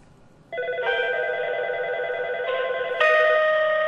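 An electronic telephone ring tone from an incoming call on a FreePBX phone system sounds clearly, a steady warbling tone that shifts pitch partway through and grows louder near the end, with no talking.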